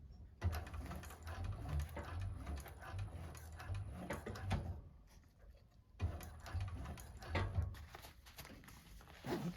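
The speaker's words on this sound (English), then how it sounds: "you're going to sew down your pocket at the seam allowance" A 1341 cylinder arm sewing machine stitches down a pocket on a bag at the seam allowance, giving a fairly quiet, rapid mechanical whir with a rhythmic ticking patter. It pauses briefly midway, then resumes.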